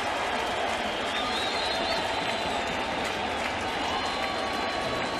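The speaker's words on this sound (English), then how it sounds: "Crowd cheers." A baseball stadium crowd roars and applauds steadily as a pitcher sets a strikeout record, a dense wash of cheering and clapping that holds throughout.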